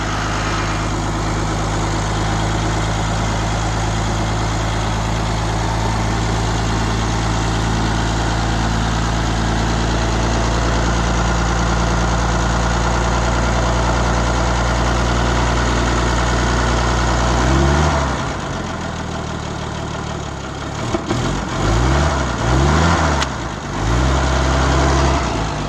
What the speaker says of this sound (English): Hasn't been going since 1988 and it's idling.